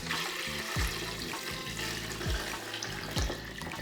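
Tap water runs steadily into a stock pot holding scraped-off chicken bits, a loud, continuous splashing rush with a few deeper thuds as the pot fills.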